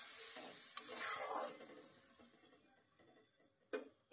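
Duck egg curry bubbling in a pan of mustard oil with onion, chilli and turmeric, a faint continuous simmer and sizzle with soft scattered ticks and one sharper clink near the end.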